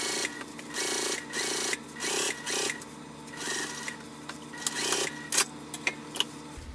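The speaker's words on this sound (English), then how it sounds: "let's go ahead and just sew along this bottom portion, not the cutouts, back stitching when you start and stop" A sewing machine stitches the bottom seam of a tote bag in short bursts, its rapid mechanical whir starting and stopping repeatedly for backstitching, close and alone with brief quiet gaps.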